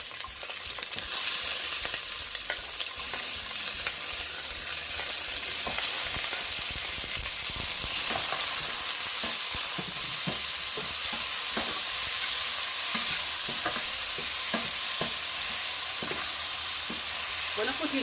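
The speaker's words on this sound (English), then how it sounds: "Oil is hot, so what I'm gonna do, I'm gonna put in my garlic, my scallion, onion, peppers" Garlic, scallion, onion and peppers sizzle steadily in hot oil for a Jamaican stir-fried cabbage, a dense continuous frying hiss broken by scattered stirring clicks, close and unbroken with no talking.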